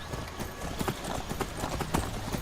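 Horse hooves clip-clop in a steady, close rhythm in Skyrim, a stolen horse trotting along in a quiet game world, with faint game ambience underneath and no talking.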